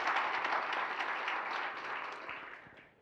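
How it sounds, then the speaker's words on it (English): An audience at a city State of the City address gives a round of applause. It starts full and close, then fades steadily over about three seconds. "if we could get a round of applause for all those who supported our Community Fest"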